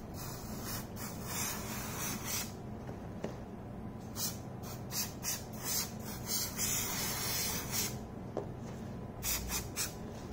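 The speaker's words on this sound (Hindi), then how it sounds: "इस वाले शूज पे लगाते हैं, अच्छे तरीके से स्प्रे करते हैं" Water-repellent nano coating is sprayed onto shoes in short bursts of hissing spray, mixed with soft rubbing and faint squeaks of the shoe close by, fairly quiet.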